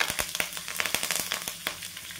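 Tempering of urad and chana dal, cashews, curry leaves and green chilies in hot oil for upma, with rapid close crackles and pops over a steady sizzle.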